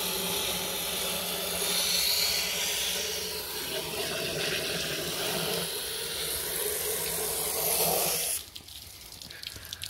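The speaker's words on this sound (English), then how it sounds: "So I'm going to try to flush that water jacket out best I can." Water flushes out of the engine water jacket of a 1940 Chevy coupe, a steady rushing gush that runs for several seconds, shifts partway through, then cuts off abruptly near the end.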